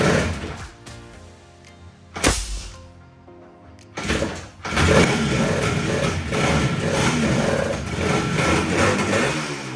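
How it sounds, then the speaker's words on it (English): A two-stroke Yamaha RD400 motorcycle engine, a barn find with its left side struggling to fire, sputters and coughs, catching briefly in uneven bursts before running roughly for several seconds, close by. "here you can really see the left side of the engine struggling to fire"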